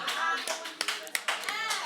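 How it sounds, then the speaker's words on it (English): A studio audience claps for a fish cake, with several rapid bursts of applause that rise and fall over the span of a couple of seconds. "the audience is literally clapping for this woman's fish cake"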